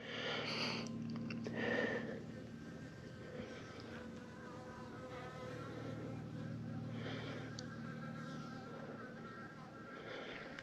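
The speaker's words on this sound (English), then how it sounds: "I was wondering why there's so many bees around me." Bees buzz around an abandoned bulldozer in the California hills, drawn to water inside a broken part. A steady insect drone with passing buzzes sounds close and moderately quiet against an outdoor background.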